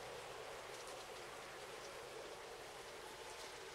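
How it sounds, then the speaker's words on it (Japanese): Heavy rain in a horror video game, a steady, dense hiss of downpour that holds evenly throughout with no voices over it. "うわ、雨やば。 最悪。 雨やばいんだけど。"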